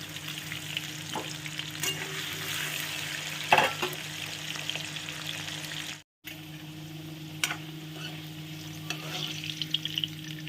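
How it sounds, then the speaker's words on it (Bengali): Potatoes fry in oil for a Bengali fish curry, a steady close sizzle running throughout with occasional stirring clinks and a brief dropout midway, no speech. "আলুগুলো কিন্তু আমি সুন্দর করে ভেজে নিয়েছি।"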